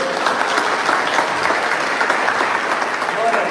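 A church congregation applauds steadily, a dense wash of many hands clapping close by and filling the whole stretch, with a voice faintly present beneath it.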